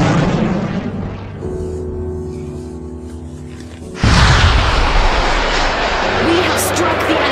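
Missile launch in the space combat game Sunrider: Mask of Arcadius, a low droning engine hum that suddenly bursts into a loud roaring whoosh which sustains to the end, with a voice speaking over it.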